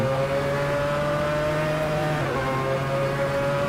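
A Mazda 787B race car in the video game Assetto Corsa holds a steady, loud engine drone throughout, with a slight dip and shift in pitch partway through, heard alone without any talk.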